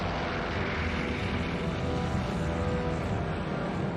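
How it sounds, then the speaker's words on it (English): WWII transport planes carrying paratroopers on D-Day fly overhead in a steady, dense propeller-engine roar that fills the whole span without letup. "there was this roar in the air, and we looked up, and there were all these aircrafts going over"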